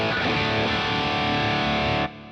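An electric guitar plays through a Tube Screamer-style tube drive on a Positive Grid Spark amp, giving a thick, overdriven chord with a strong midrange push, sustained for about two seconds before stopping abruptly.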